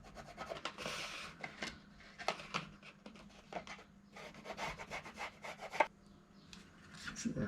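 Trimming a tack plate for a 1951 Chevrolet headliner, with repeated close rasping, rubbing and cutting strokes in irregular bursts of moderate loudness and no talking.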